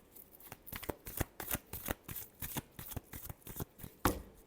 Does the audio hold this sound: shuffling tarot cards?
yes